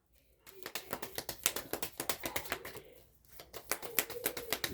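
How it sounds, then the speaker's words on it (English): Tarot cards are shuffled rapidly in quick, crisp riffling bursts, a brief pause breaking the flurry midway, close and fairly loud. "The cards keep shuffling."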